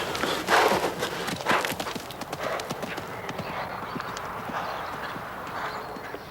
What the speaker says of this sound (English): It's the irresistible scent of the mares grazing close by which drives the stallion to charge at the fence.